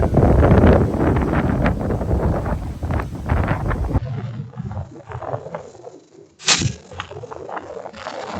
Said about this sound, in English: the wind's definitely picked up here